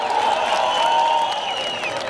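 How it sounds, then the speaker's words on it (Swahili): An outdoor rally audience at Ndumberi Stadium in Kenya gives a continuous wash of applause and crowd noise, fairly loud and steady, with faint whistles or tones drifting above it. "Wapi makofi?"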